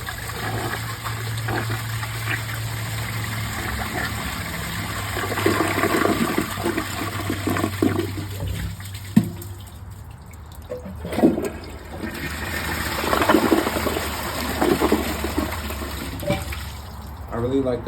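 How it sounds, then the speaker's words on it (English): Two toilets, an American Standard Cadet comfort-height model and a Kohler Highline Class 5, flush in a bathroom with a strong rushing swirl of water followed by refilling, steady and close, with a person speaking over it. "Let's give both of them a flush."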